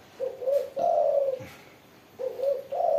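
Tekukur and perkutut doves coo in soft repeated phrases, two bursts separated by a brief pause, close and moderately quiet with no talk.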